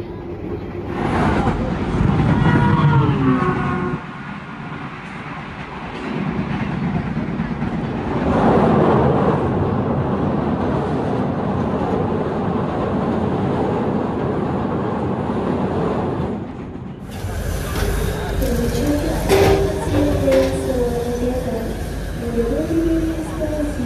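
On board the Sawunggalih passenger train from Kutoarjo to Pasar Senen, a loud, continuous carriage rumble runs throughout and changes character partway through, with voices heard over it.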